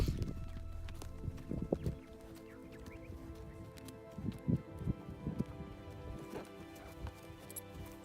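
Horse hooves clip-clop in bursts on the Mongolian steppe near a ger camp, moderately close, with irregular strikes and occasional snorts over a steady outdoor background.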